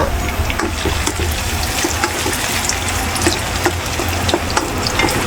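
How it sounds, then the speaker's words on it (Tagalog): Hot oil sizzles and crackles steadily as a hotdog fries in a pan, close and fairly loud, with no talking. "ipiprito natin itong ating hotdog"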